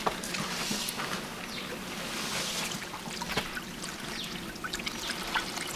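Fresh water pours and splashes over rice seeds being washed on an organic farm, a continuous close, rushing trickle with small splashes throughout and no talk.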